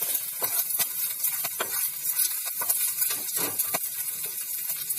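Taro root (arbi) pieces frying in hot oil until golden brown, a steady close sizzle with repeated stirring scrapes and clicks in the pan, no voices.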